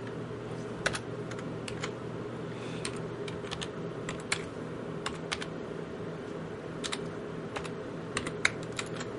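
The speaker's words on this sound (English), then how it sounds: "We're going to have to type in a password, username and a password." A username and password typed on a keyboard, with sparse, sharp key clicks spread over a steady background hum and no one speaking.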